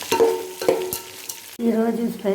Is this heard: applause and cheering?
no